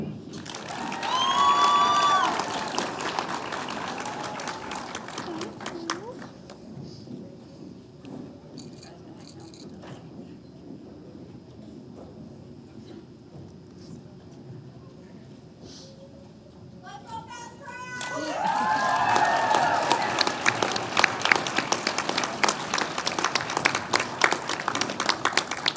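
Applause and cheering from a crowd honouring LPN-to-RN graduates at a fall nursing pinning ceremony, a loud burst that fades to a long quiet stretch of murmur before the clapping swells again with scattered shouts.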